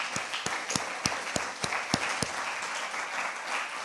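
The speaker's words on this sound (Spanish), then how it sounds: "Dele un aplauso, por favor" An audience applauding at a Spanish-language sermon, a brisk round of claps that starts sharp and evenly paced, then blurs into a denser, softer patter, with no talk over it.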